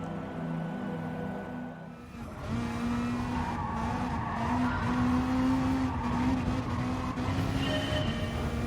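A Mazda Group 3 race car at Interlagos in Gran Turismo Sport, its engine droning close and loud with a steady rising note and tire squeal over the top throughout.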